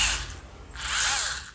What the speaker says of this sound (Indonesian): Jadi kita ngebor kayak gini,